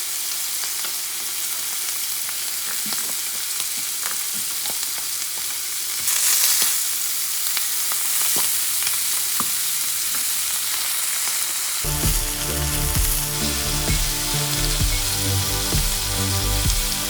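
Butter sizzles and fries in a hot pan beside pieces of elk meat, giving a steady close crackle with occasional pops, and the sound grows louder and denser toward the end.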